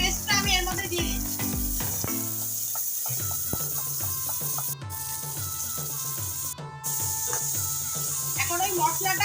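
Spice paste of ginger, cumin and chilies hits a hot pan of frying onion and tomato for a jackfruit and shrimp curry, a loud close burst of sizzling that settles into a steady crackle with stirring scrapes.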